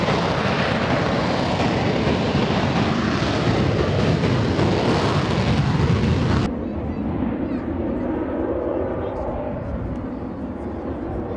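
Small airplanes flying over an airfield, a loud sustained engine drone that cuts abruptly to a quieter, fading rumble, with voices audible underneath.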